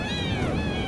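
Kittens in the video game Shelter 2 give a quick cluster of high, wavering meows over a noisy background, brief and close.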